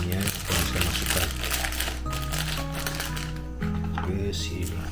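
A triangular plastic piping bag crinkles steadily as it is filled, close and busy, under a person speaking and a tonal background sound.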